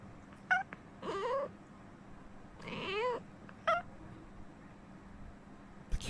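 A cat meows several times, short separate calls scattered among quiet pauses, fairly clear and close, with a longer drawn-out meow in the middle.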